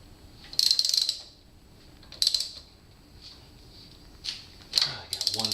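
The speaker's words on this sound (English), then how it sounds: "So another full counterclockwise spin on our crankshaft." On a Suzuki V-Strom 1000 with the valve covers off for tappet clearance adjustment, the crankshaft is turned by hand, making a few separate ratcheting clicks and mechanical clanks spaced apart over a quiet background.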